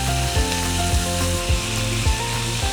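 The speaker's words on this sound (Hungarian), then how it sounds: "amikor jó forró lett az olaj, akkor teszem bele, ugyanúgy, mintha sztéket sütnénk" Salted chicken pieces sizzle and crackle in very hot, smoking oil in a pan, a dense close frying hiss over a low hum, with faint rhythmic stirring or scraping knocks recurring about every half second.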